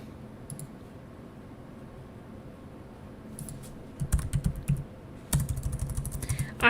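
Computer keyboard typing starts as sparse clicks, then turns into rapid bursts of clattering keystrokes close by, with brief pauses between flurries.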